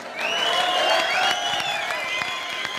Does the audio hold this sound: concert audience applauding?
yes